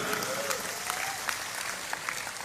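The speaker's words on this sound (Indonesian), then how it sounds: "Tepuk tangan untuk Madura." An audience at a humorous Islamic sermon in Indonesia breaks into sustained applause for Madura, a dense, steady wash of clapping with a faint voice underneath.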